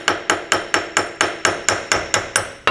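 A hammer strikes a hub socket tool, driving a rear seal into a T5 gearbox on an HQ Holden with a 253 engine. About a dozen sharp, close metallic blows land in a steady, even rhythm, with no talking.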